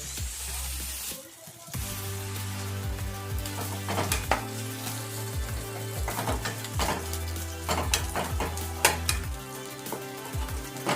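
Grated coconut and coriander fry in a pan for sambar, a close, continuous crackling sizzle broken by repeated spoon scrapes and taps against the pan, with a brief dip in the sizzle near the start and no talking.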